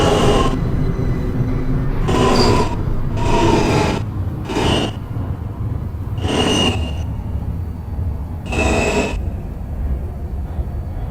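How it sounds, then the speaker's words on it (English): An F local subway train in New York heading toward Jamaica-179th Street rumbles and screeches loudly, with a steady rolling roar broken by about six rasping bursts of wheel squeal or brake hiss. "This is a Jamaica-179th Street bound F local train"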